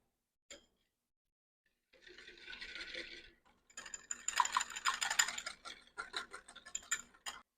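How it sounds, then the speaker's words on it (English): Mayonnaise and sugar whisked in a bowl for a banana salad dressing: after a lone click and a pause, quick scraping and tapping strokes come close and fairly soft in uneven bursts, with no talking. "I'm going to whisk it until the sugar is all dissolved"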